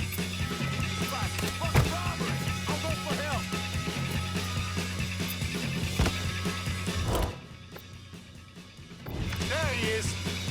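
A drill grinding steadily during a vault heist in Mafia III, a continuous mechanical whine with clatter and knocks over it, briefly dropping away before resuming.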